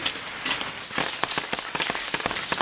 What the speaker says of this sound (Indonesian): Hujan euy.